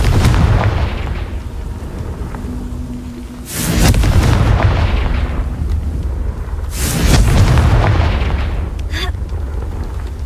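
Fiery Confringo spell blasts in the video game Hogwarts Legacy: two heavy booming explosions a few seconds apart, loud and close, each rising out of a dense rumbling game soundscape.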